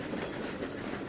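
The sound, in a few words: train running in Trainz 2022 video game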